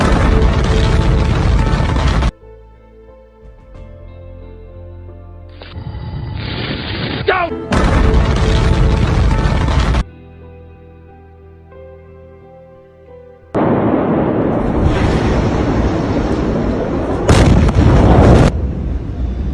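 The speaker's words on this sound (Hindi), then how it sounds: "इन धमाकों की आवाज़ आप इस वीडियो में सुन सकते हैं।" Several loud explosion booms, from the Beirut port blast and a Simpsons cartoon blast, come in separate bursts with near-silent gaps and quieter stretches between them, some with a rumbling tail.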